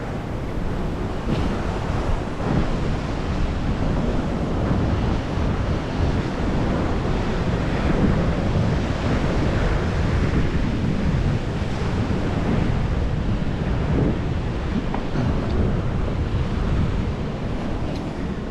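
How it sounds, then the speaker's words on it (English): Rough ocean waves at South Point, Hawaii surge and crash continuously over a rocky tide-pool shore, mixed with strong wind buffeting the microphone; no voices are heard. "I think the waves are just a little too rough today."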